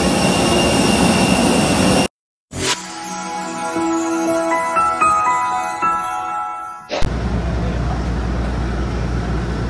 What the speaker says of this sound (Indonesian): Kita naik pesawatnya agak kecil ya.